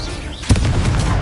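A fire-spell explosion in the video game Hogwarts Legacy, cast during a duel: a single sharp burst that blooms into a sustained, rumbling crackle of flame and impact noise, with no talk over it.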